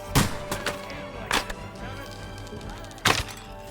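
Arrows loosed in a medieval battle in Kingdom Come: Deliverance II, three sharp whipping twangs spaced about a second apart over a low battlefield din.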